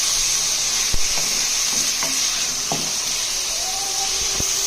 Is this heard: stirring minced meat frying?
yes